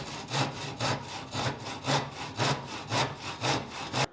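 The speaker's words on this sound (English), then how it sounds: "cutting these legs with a handsaw is probably the most difficult part" A handsaw cuts through a 4x4 wooden bench leg in steady back-and-forth strokes, about two per second, each a close, loud rasping burst with brief pauses between.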